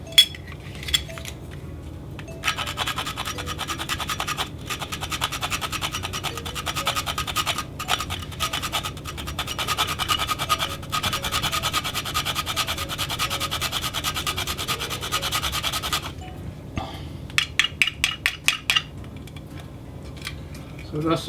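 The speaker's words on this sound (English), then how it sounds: "Just whisk that through." Steady scraping and clinking of a whisk working through a bowl of gooseberry punch as nutmeg is mixed in, with a few brief pauses and sharp ticks near the end.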